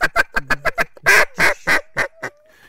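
A handheld duck call blown to imitate a quacking mallard hen: a rapid run of short, sharp quacks followed by several longer, louder drawn-out calls, close and alone, ending in a fading tail.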